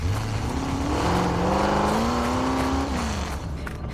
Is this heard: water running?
no